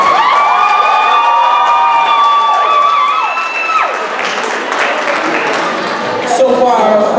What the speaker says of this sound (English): round of applause for all of our performers